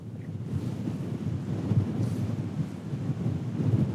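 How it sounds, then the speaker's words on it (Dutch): The first autumn storm of the season roars as a strong, constant wind buffeting the microphone, with deep rumbling gusts and no voices. "De eerste najaarsstorm is een feit."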